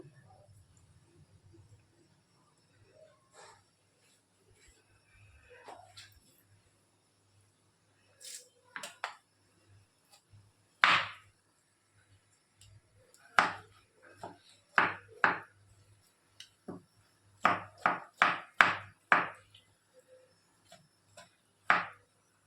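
A knife chops tomato on a board, a scattered series of sharp cutting taps that grows into a quick close cluster of chops in the second half, heard alone.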